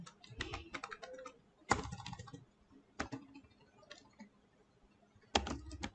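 Computer keyboard typing while writing HTML and CSS code, arriving in quick bursts of key clicks separated by short pauses, close and fairly faint, with no voices.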